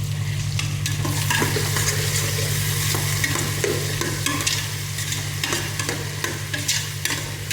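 Vegetables lightly frying in oil for a vegetable biryani, a continuous close sizzle with repeated spatula scrapes and stirring clicks over a low steady hum, no voices.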